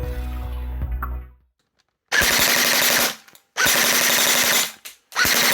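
A Double Bell 808 KAC PDW airsoft gun fires full auto in three loud, close bursts of rapid mechanical cracks, separated by short silences.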